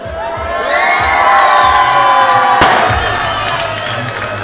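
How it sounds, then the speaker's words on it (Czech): Crowd cheering and whooping at a high school graduation ball, loud sustained shouts and cheers from many voices with clapping underneath, one sharp bang midway. "Váš potlesk patřil Dominice, Kristýně a Matějovi."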